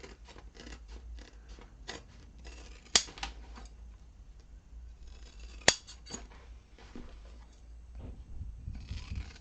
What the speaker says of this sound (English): then you can trim the rest of the seam allowances up to 1/4 of an inch